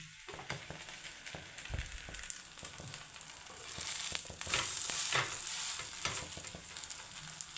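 Leftover roti fries in a hot pan with oil, a steady close sizzle and crackle punctuated by scraping and stirring clicks, growing louder partway through.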